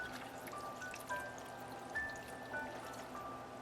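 Eight ounces of plain cold water being poured into a soup pot, a quiet, close, steady trickle with faint splashes and drips.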